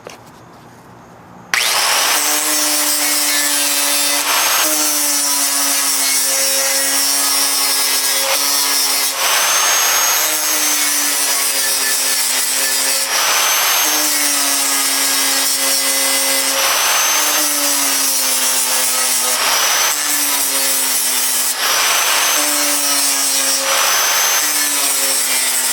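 An air sander works 36-grit sandpaper over the metal body of a Ford F100 truck, a loud, continuous whine with repeated strokes and brief pitch dips, starting after a short quiet moment.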